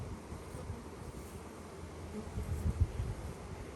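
Honeybees buzz at a hive in a cow pasture apiary, a dense, low, steady drone close by that swells slightly toward the end, with no talking.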